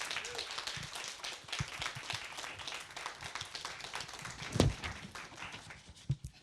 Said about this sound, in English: Can I have a big round of applause for Selby,